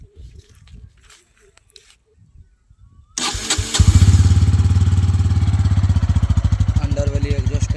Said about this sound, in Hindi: दोनों बाइक की एग्जॉस्ट साउंड नोट करते हैं कैसा है।